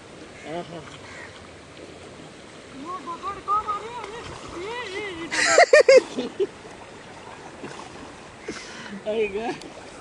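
Water in a shallow hillside stream splashed and pushed along by hand, a few sharp splashes bunched midway and another near the end, with people talking throughout.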